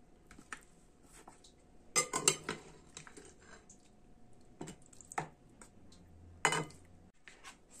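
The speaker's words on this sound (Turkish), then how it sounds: "Saklama kabımızın ağzını da kapattık" Chicken wings being placed into a storage container and its lid closed, heard as a few soft clattering knocks and a plastic snap spread over several seconds, with quiet handling rustle between.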